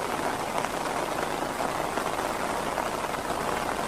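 Steady rain falls without pause, a dense, loud hiss of drops drumming on surfaces close by, with no voices heard over it.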